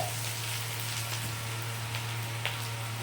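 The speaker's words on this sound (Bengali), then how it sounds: "সঙ্গে কাঁচা লঙ্কা কুচিগুলোও দিয়ে দিলাম একটু নাড়াচাড়া করছি আদাটা একটু ভেজে" Ginger and green chillies sizzle steadily in hot oil in a pan, a continuous crackling fry with a few faint scrapes of stirring, close and fairly quiet with no talk.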